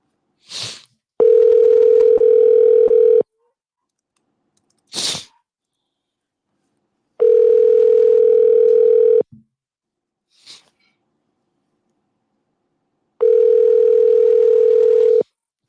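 Outgoing telephone call ringing unanswered: three long, loud steady ring tones about two seconds each, evenly spaced with silent gaps, each preceded by a brief sharp click or beep, no voices.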